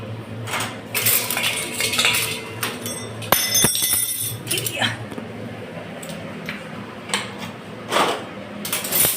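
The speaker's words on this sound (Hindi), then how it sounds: "और अब इसमें लगाऊंगी मैं कटोरियाँ।" Steel bowls clinking and clattering as they are set into a dish rack, a series of sharp metallic knocks and rattles close by with short pauses, someone speaking between them.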